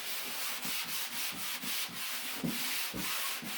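Hand wet sanding of taped drywall walls in a laundry room: steady, close rhythmic rubbing and scraping strokes, roughly two or three per second, soft and continuous with no talking.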